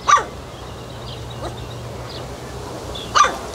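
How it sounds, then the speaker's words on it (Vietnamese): A stray dog in a forest gives two short, sharp barks about three seconds apart, at moderate distance over a steady low hum and background noise, with a faint yelp between them. "Nhỏ cái sủa kìa."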